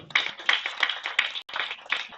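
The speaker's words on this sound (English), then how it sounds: "You should clap for yourself." Audience clapping at a national dialogue on HIV, TB, malaria and the law, a small group's uneven, bright handclaps in short bursts, fairly close and moderately loud, with a brief gap before resuming.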